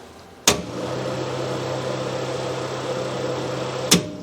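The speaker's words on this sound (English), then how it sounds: "that should power the fan" Heater fan of a 1948 Jeep CJ2A running steadily with a continuous whirring hum, opened and closed by sharp clicks as it switches on and off, close and fairly loud.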